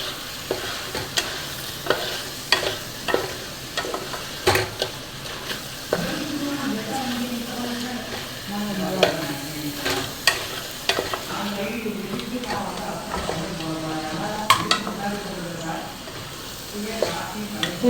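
Crab curry (kulambu) is stirred and mixed in a sizzling pan, repeated scraping and clinking strokes of a spoon against metal over a low, steady bubbling fry.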